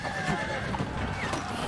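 A horse in the video game Lost Ark whinnies amid clip-clopping hooves and a busy game soundscape, with a voice talking over it.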